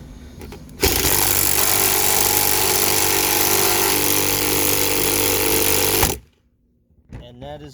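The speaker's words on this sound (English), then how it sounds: "that is why you don't use impactors, especially on plastic stuff" Impact driver hammering a screw into the plastic housing of a Shark pool vacuum, a loud continuous rattling burst for about five seconds that cuts off abruptly, followed by brief talk.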